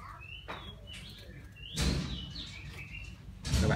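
A small caged songbird, a Vietnamese magpie-robin type kept by bird trappers, gives a few short bright chirps and whistles at moderate distance amid soft handling knocks and rustles.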